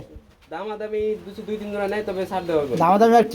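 Racer pigeons for sale give close, deep rolling coos, rising and falling in pitch over about three seconds, heard clearly.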